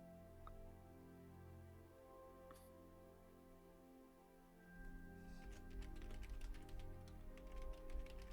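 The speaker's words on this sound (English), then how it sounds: "See Zach typing." Fast clicking keystrokes on a computer keyboard pick up midway and continue in a dense, irregular patter over a steady low background hum.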